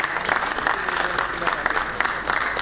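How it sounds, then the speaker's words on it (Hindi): At an award ceremony marking a foundation day, the audience applauds with moderate, somewhat sparse clapping that pulses unevenly throughout, with voices faintly mixed in. "कुछ कम तालियां हैं।"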